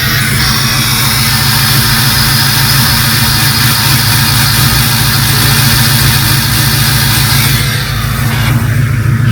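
A snow plow truck's engine idles steadily in 19-degree Alaska cold as it warms up, a loud, continuous low rumble with no talking, easing slightly near the end.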